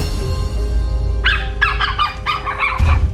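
A dog barks in a quick series of sharp, loud yelps over a low background rumble, the barks coming in short bursts with brief gaps before a final heavier bark.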